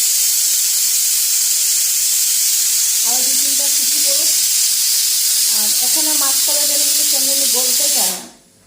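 A pressure cooker cooking black gram dal releases steam as a loud, steady, close hiss that lasts until the clip cuts off abruptly, with a voice or faint tonal sounds appearing briefly underneath midway.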